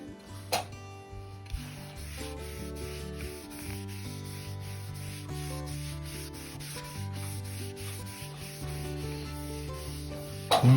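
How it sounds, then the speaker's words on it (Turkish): Steady, rhythmic rasping of 60-grit sandpaper rubbed back and forth over a wooden Huğlu 401 B shotgun stock, close and continuous, with a brief louder scrape at the start and end. "Bunu 60'lık bir zımpara yaptık."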